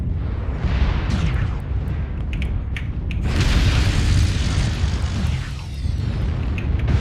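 Deep rumbling explosions and mechanical creaks from destroyed targets in a video game battle, a dense continuous roar with a louder blast midway and clicking mechanical sounds on top.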